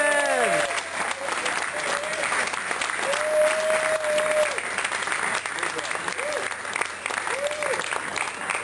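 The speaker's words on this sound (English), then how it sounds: "Let's give him a big round of applause for fighting the good fight." Loud, steady audience applause at a holiday harm reduction dinner, dense clapping throughout with whoops and voices mixed in, sustained without a break.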